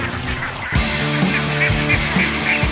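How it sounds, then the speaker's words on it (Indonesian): Ducks swimming and feeding in a rice paddy in central Java quack and honk loudly and close by, in a quick run of repeated calls over a steady outdoor background. "Bebeknya langsung berenang karena mereka mau cari makan."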